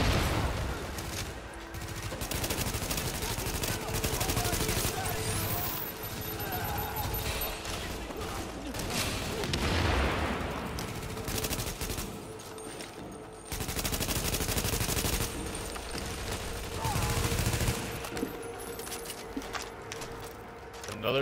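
Light machine gun fire crackles in the video game Tom Clancy's The Division, with dense, rapid bursts and scattered shots running almost continuously, while voices talk over the action.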